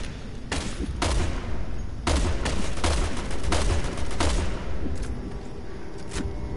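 Gunfire in the video game Resident Evil 6, a loud, dense fusillade of rapid shots and bursts running almost without a break, crackling over a rumbling game background, with no voice over it.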